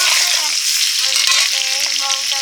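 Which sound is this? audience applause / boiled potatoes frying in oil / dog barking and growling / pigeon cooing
boiled potatoes frying in oil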